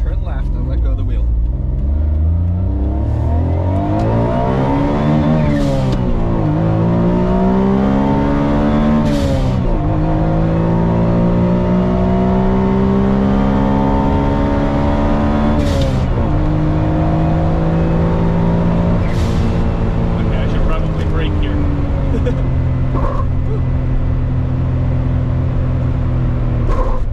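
A small Autozam AZ-1 (Suzuki Cara) kei sports car drives with its engine running loud and steady, pitch rising and falling with the revs and gear changes, while someone talks over it.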